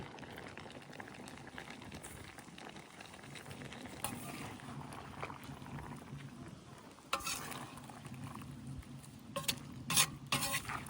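Mushrooms and peppers frying in a pan, stirred with a utensil: a steady low sizzle with soft scraping, then sharper clacks and scrapes near the end, close and fairly quiet.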